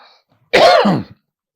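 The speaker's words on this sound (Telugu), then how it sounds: "ఇప్పుడు కూడా దగ్గు." A single short, harsh cough close to the microphone, more like a throat-clearing rasp, with quiet before and after.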